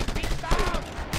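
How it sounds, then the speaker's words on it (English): A minigun fires in the video game Just Cause 2 as a rapid, loud burst of continuous gunfire lasting about a second, with a voice briefly audible. "Yeah, it's definitely a minigun."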